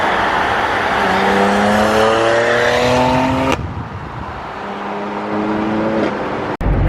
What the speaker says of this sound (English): Surprisingly, this E46 is really quick